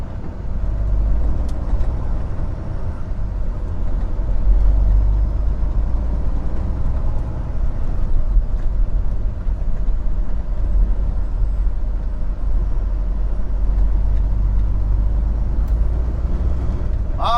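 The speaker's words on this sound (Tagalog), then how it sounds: "Traffic." Road traffic rumbles on steadily for a long stretch, a dense low drone of engines from cars, buses and trucks with faint hiss and occasional clicks, no clear voice on top.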